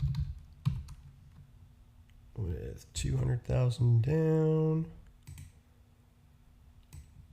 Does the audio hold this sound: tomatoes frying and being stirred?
no